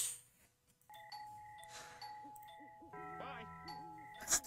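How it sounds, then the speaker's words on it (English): Doorbell chimes in a video game ring repeatedly in quick bursts, faint tonal dings over a quiet background with a sharp noise at the end. "Stop spamming my doorbell!"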